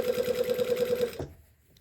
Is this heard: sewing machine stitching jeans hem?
yes